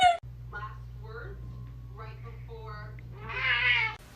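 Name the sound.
Turkish Angora cat meowing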